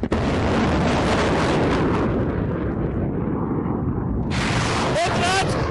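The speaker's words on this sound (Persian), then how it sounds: "رهگیری و شلیک موفقیت‌آمیز موشک‌های سامانگ مرصاد به سه هدف پهپادی" Mersad missile system launching missiles at three drone targets during a large army exercise: a loud, sustained roaring blast that fades somewhat, then surges again with a rising whistle near the end.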